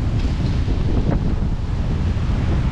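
Strong wind buffets a boat out on the water off Florida during a crabbing trip, a steady loud roar of gusts and microphone rumble with wave wash underneath, no voices.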